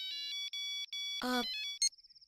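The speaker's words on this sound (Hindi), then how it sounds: "ये मोबाइल किसका बज रहा है?" A mobile phone ringtone plays in short repeated electronic tones, fairly quiet and clear. A brief voice cuts in partway through before the tones resume.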